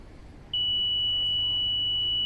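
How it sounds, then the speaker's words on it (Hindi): An EVM voting machine beeps during poll closing at a training mock poll: a single steady high-pitched tone begins after a brief lull and holds without a break over a low background hum. "क्लोजिंग थोड़ा सा समय लेगी, अपने ये सारे मैसेजेस आपको बीप के साथ सुनाई देंगे"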